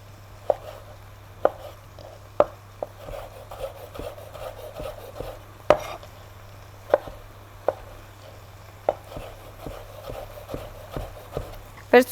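Vegetables are chopped with a knife on a board for Mexican nachos salsa, giving rhythmic wooden knocks, some louder than others, over a constant low hum.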